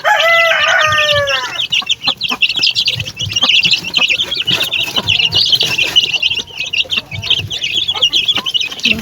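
Young pet chicks, a third batch, cluck and peep busily while pecking at freshly cooked rice mixed with leftover rice, with a rooster-like call early on and steady close chatter throughout.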